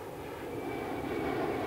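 An Ilyushin Il-76 transport jet in its firefighting version flying at the Paris Le Bourget air show, a steady broad engine roar that builds slightly, heard at a distance and alone.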